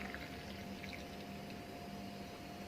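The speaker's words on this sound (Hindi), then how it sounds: "अब इसका बाकी पानी भी इसमें मिक्स कर देते हैं।" Water pours steadily into a moringa tea mixture, a faint continuous trickle and splash heard alone in a quiet kitchen.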